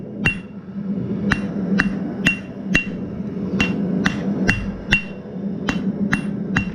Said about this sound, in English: Now I'm going to put the crease here, hammer that one down.